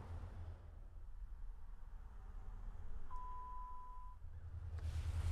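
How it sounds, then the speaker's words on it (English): A single clear electronic beep lasting about a second, confirming a Ford power liftgate height setting, rises over a quiet low hum of the idling car, with faint background noise. "once you hear that beep sound, it's going to go ahead and be programmed"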